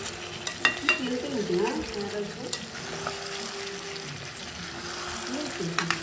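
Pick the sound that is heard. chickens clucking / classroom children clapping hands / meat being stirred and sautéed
meat being stirred and sautéed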